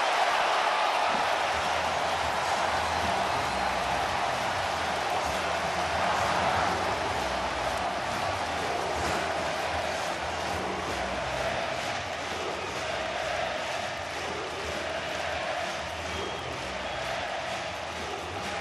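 A baseball stadium crowd at a White Sox game roars continuously, a loud, wide wash of cheering and shouting that stays steady throughout and eases slightly near the end.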